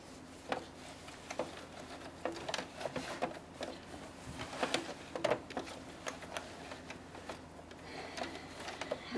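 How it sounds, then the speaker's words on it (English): A sewing machine running along a dress seam gives quiet, irregular bursts of rapid stitching clatter with short pauses between runs, close by and alone. "So now we'll just continue down to sew the rest of this seam."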